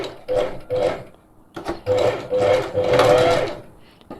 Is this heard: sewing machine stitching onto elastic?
yes